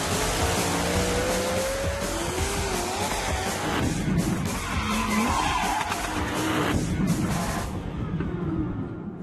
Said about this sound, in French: des centaines de 4x4 pressés de passer du silence des sables au tonnerre des moteurs